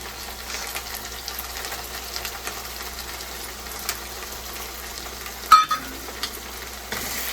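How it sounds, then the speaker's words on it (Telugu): Prawns frying in oil with a spoonful of ginger, garlic and coconut paste stirred in for a gongura prawn curry, giving a steady low sizzle with a few louder stirring clatters near the end. "రొయ్యలు కూడా బాగా వేగేసినాయి"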